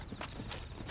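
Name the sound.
enemy footsteps in the video game Dark Souls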